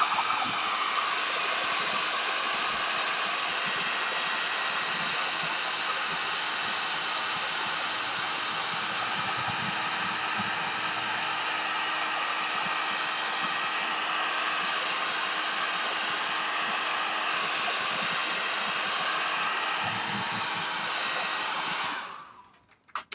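A hair dryer blows steadily on paint and glue drying on a paper collage, a constant close whooshing hiss running unbroken for over twenty seconds before cutting off at the end.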